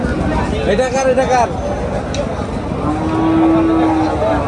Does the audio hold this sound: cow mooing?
yes